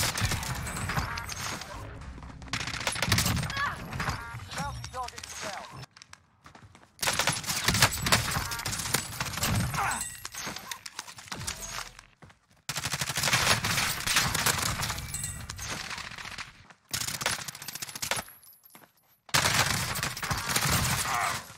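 Akimbo Sykov pistols with 80-round drum magazines fire in Warzone, loud sustained bursts of rapid gunfire in repeated volleys, broken by short quiet gaps, with no talking.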